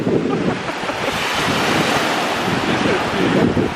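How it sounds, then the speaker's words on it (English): Ocean waves roll steadily onto Luskentyre beach on the Isle of Harris, a continuous loud wash of surf with strong wind buffeting the microphone throughout. "the waves weren't quite as big"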